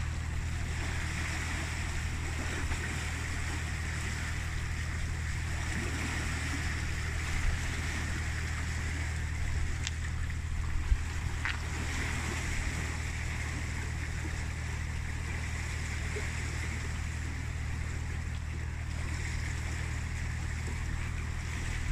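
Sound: water flowing as canal pound lock levels out

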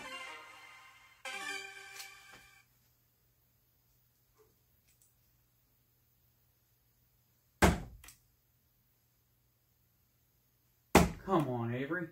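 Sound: darts hitting a dartboard

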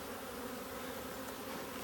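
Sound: honeybees buzzing at a hive

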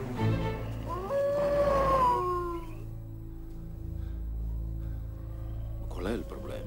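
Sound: wolves howling

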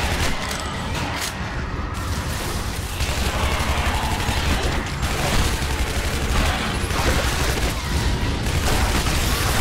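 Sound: explosions and gunfire in the video game Shadow Warrior

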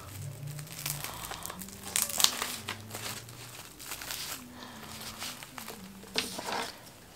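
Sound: opening and crinkling saran wrap packaging

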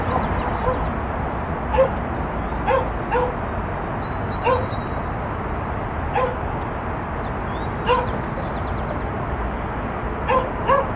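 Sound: dogs barking

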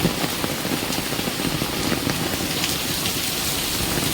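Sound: heavy rain falling

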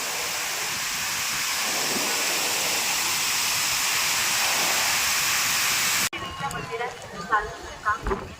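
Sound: waterfall

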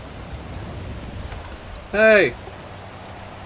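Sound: rain in video game GTA 5

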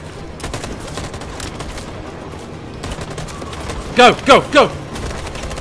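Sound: covering gunfire in video game Detroit: Become Human

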